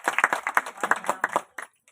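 A speaker at a public gathering claps about a dozen times in quick, even succession, close and crisp, then adds one last clap after a short pause.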